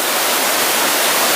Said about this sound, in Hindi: उतनी हाइट से पानी नीचे की ओर आ रहा है